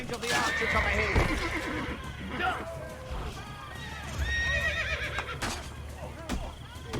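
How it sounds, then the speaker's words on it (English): A horse neighs loudly over hoofbeats and game action in Assassin's Creed: Brotherhood, with a second whinny later; excited voices talk over it. "Horse!"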